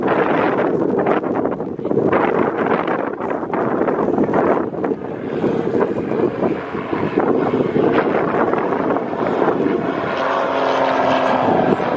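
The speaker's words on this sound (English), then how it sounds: "Beautiful knife edge pass there. Just displaying that aircraft." Propeller aircraft flying a knife-edge pass at the Wings Over Wairarapa air show, with a steady droning engine and prop roar under heavy wind noise that fades and swells as it passes.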